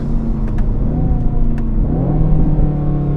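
An Aston Martin Vantage engine revs and pulls hard under acceleration as the driver shifts with the paddle. A steady, loud, close rumble holds throughout, with no talking.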